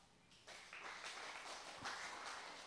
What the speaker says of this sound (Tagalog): Sino nakakaunawa, pumalakpak?